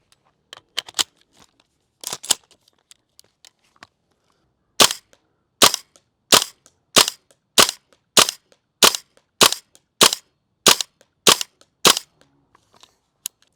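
Black Ops 6 themed M4 airsoft gun firing outdoors: a few scattered early shots, then a steady sequence of about eleven sharp, loud, evenly spaced pops standing alone with no talk.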